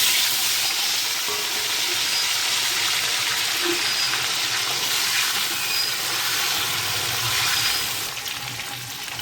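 Chopped vegetables, including taro, sizzle loudly in hot oil after a cumin tempering, a steady close hiss that holds for several seconds before easing slightly at the end.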